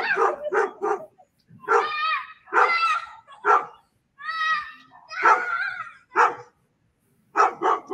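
A dog barks and yips in a series of sharp bursts separated by brief pauses, near and loud, with some whining, strained notes among the barks.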